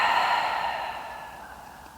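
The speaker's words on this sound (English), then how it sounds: "Breathing deeply." Slow, deep exhale during a beginner yin yoga session, a close, airy breath that starts fairly strong and gently fades over two seconds, heard alone in a quiet room.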